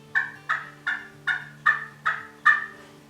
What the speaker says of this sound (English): it gives a little softer sound, so it's really good for those early morning clucks and purrs